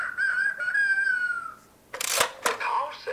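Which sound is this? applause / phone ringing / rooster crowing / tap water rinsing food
rooster crowing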